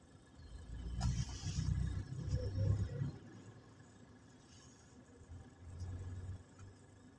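Cars on a three-lane road at night, around seven in the evening, pass as a steady low rumble of engines and tires, with louder swells early on and again near the end, no talk.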